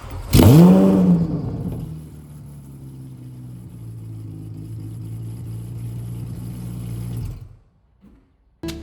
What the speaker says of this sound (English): if the car will start